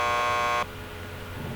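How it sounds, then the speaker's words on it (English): A door buzzer in the Max Payne 2 video game drones as a steady electronic tone for just over half a second, then cuts off, leaving quiet room ambience. "Just press the buzzer by the door"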